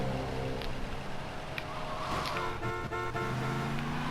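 A car horn in Grand Theft Auto: Vice City toots several times in short blasts over the hum of traffic and engine noise, fairly faint in the mix.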